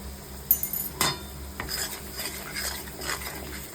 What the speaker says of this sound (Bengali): এবার ভালো করে মশলাগুলোকে ভেজে নেব।